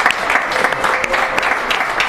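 A crowd claps for the owners of Chicago's Pizza on Virginia Street in Reno, giving a steady, dense burst of applause that fills the whole moment at close range.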